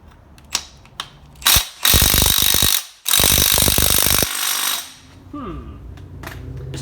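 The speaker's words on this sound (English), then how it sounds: "Just trying to spin the bolt in the sleeve." A ratchet spins a bolt inside a leaf spring bushing sleeve on a 1972 Nova, fast metallic clicking in two loud bursts with brief pauses and a few lighter clicks around them, close by and without talk.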